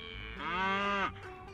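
A baby cow in the video game Fluffy Horde gives a single clear, drawn-out moo of about a second, close and alone.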